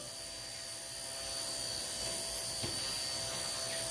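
A small Blade Nano S3 RC helicopter throttles up, its steady high-pitched rotor whine holding tone and swelling slightly louder, close by and with no talk over it.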